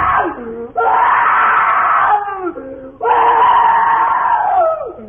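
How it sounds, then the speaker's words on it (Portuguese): A young man screams and wails at night in a 1948 Rádio Tupi drama: two long, loud anguished cries with falling moans in between, close and alone with no talk. "A barulheira, a gritaria vinha da sala de visitas, onde, na falta de melhor acomodação, dormia o Plácido"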